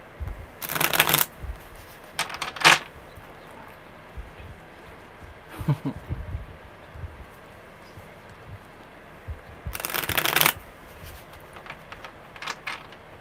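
Tarot cards shuffled in quick riffling bursts, three distinct shuffles separated by quiet pauses, close by with faint tapping between.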